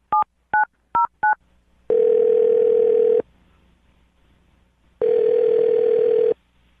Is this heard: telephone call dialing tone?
yes